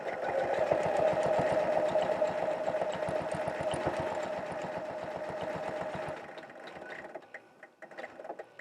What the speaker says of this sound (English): I'm using the Janome CM17 right now, so this works really well for in the ditch quilting.